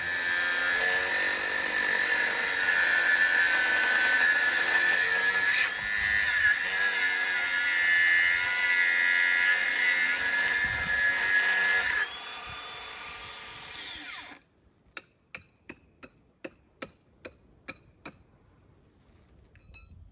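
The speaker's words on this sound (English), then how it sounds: "I'm gonna cut these rebar pieces down flush with the stone" A high-pitched grinder whines steadily while cutting rebar flush with stone, then spins down and stops, followed by a series of sharp metallic taps.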